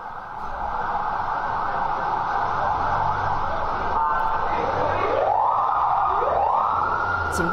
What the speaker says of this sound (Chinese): 警报声也响起了啊。